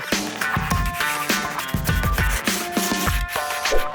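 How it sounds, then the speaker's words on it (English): Steady rasping of sandpaper worked back and forth over a fiberglass fender flare, close and continuous, with a rhythmic scrubbing pattern and a faint machine hum. "there's a little bit of sanding that needs to be done in the top of this one"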